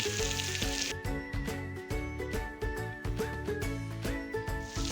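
Onions and potatoes sizzle and crackle in a hot pan, with busy clattering from stirring over the steady frying hiss.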